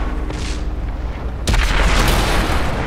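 A tank cannon in World of Tanks fires once with a single loud, deep boom that cuts through the steady roar of engine and battle noise and then rumbles on.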